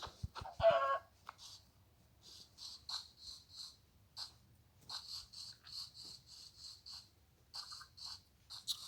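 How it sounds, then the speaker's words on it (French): Chickens in a medieval video game cluck in short, faint bursts at an irregular pace, one after another, with no talk over them. "Je vais tuer des poules."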